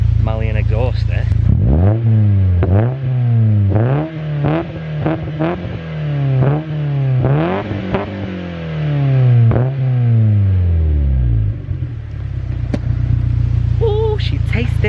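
Mazda MX-5 Miata MK2.5 with an aftermarket exhaust, revved repeatedly at close range: a series of sharp rising blips and falling drops, loud and raspy, settling back to a steady idle at the end.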